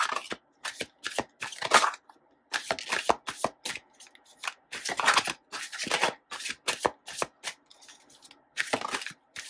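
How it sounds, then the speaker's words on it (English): Tarot cards riffle and slap together in quick papery bursts, a shuffle repeated over and over with short pauses between, close and fairly quiet with no talking. "let's just shuffle and see what we get."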